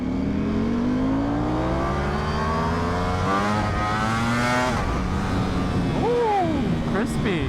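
A V4R motorcycle engine revs hard and climbs through upshifts, pitch rising then dropping at each gear change, loud and close, with voices talking over it.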